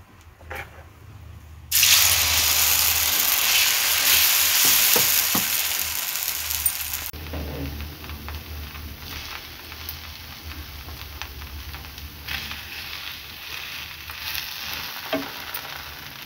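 A pesarattu, a green gram dosa, frying on a pan: loud steady sizzling that sets in abruptly, then drops to a quieter crackle with scattered pops and scraping.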